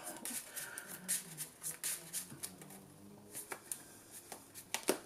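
A deck of Yu-Gi-Oh cards is shuffled by hand in a series of soft, rapid riffling and sliding bursts, close and fairly quiet, with brief pauses between handfuls.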